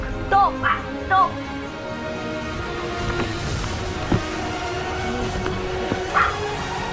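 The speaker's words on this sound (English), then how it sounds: "Be quiet, dog!" A dog barks in short bursts, two or three sharp yips near the start and another around six seconds, fairly close, while a person talks through much of the clip.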